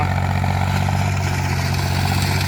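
An old YTO 454 farm tractor engine runs steadily at idle, a close, continuous low diesel throb with no talk over it.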